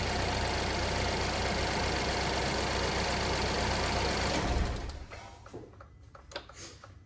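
A 2013 Chevrolet Equinox engine with a newly replaced exhaust manifold idles steadily with a loud, even rumble, then shuts off, leaving quiet ticks and small knocks.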